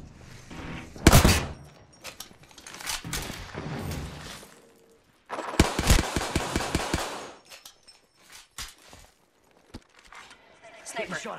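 Gunfire in Apex Legends: loud bursts of automatic weapon fire, a sharp volley early and a longer rapid string midway, followed by scattered single shots and footsteps, with a voice speaking between the bursts.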